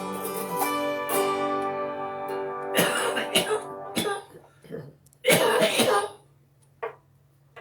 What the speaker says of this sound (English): There's that cough left over from last week.